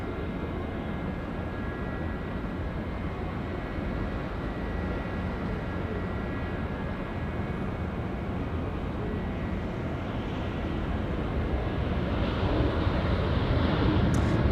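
An airliner departs Auckland Airport for Dunedin on runway 23, a steady distant engine roar that holds level and swells slightly toward the end, with no talk.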